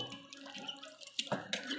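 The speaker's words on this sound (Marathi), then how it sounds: "परत पाणी घ्यायचं धुवून काढायचं आणि असं मस्त असे चांगले चोळून धुवायचे बरं कारले" Bitter gourd being washed and rubbed by hand in a vessel of water in a home kitchen, giving close, soft sloshing and splashing with a few brighter splashes near the end, and no talking.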